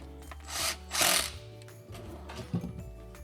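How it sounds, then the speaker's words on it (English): An impact driver drives self-tapping screws into a closet drawer in two short close bursts of buzzing, then quieter handling and clatter. "if you use an impact driver like this, you could potentially drive the screw to the point where it could poke through the other side"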